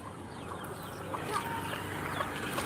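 A chicken clucks faintly at a distance over steady outdoor background noise.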